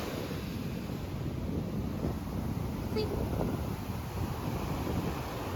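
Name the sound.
ocean waves breaking on a beach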